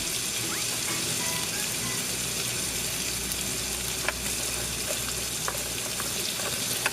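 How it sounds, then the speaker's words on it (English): Steady, dense sizzling of zucchini and tofu frying in a hot pan, with a few sharp pops and faint clicks scattered throughout. "followed by frying the zucchini, and then I add the tofu after that"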